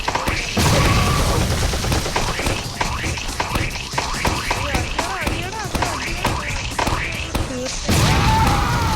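Video game gunfire in rapid bursts and booming impacts, loud and dense, running almost continuously beneath someone talking over the action.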